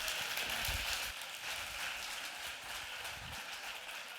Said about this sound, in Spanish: Fuerte aplauso para recibirlo